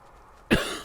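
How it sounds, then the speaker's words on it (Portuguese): A single sharp, close cough bursts out after a moment of near silence, followed by a brief rough trailing breath, from a man with a nagging cough while playing Skyrim. "eu tô com uma tosse chata"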